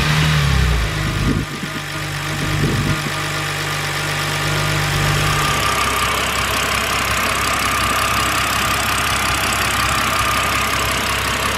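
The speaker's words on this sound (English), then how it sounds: "I'm actually going to fire the engine up just to make sure we don't have any misfires" A BMW N52 engine idles steadily and loudly up close after spark plug replacement, following a brief rev at the start, settling into an even, continuous rumble.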